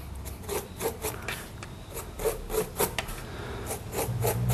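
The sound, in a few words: scratching into wet paint on a painting surface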